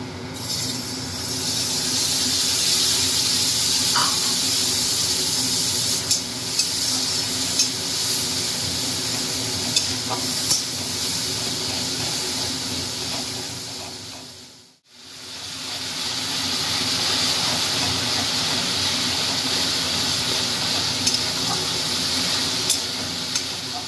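Green chilli, ginger and garlic paste frying in a pan for a fish curry, a loud continuous hiss and sizzle with occasional stirring clicks, cutting out briefly midway before resuming just as strongly.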